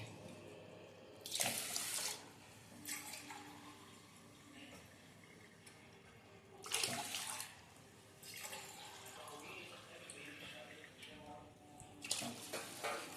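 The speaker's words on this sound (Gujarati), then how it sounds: "હવે આપણે આને અંદર પાણી નાખી અને પલાળી દેવાનું છે।" Tap water running into a container of dosa rice set to soak, faint kitchen sounds with several louder gushes of flowing water between quieter trickling stretches.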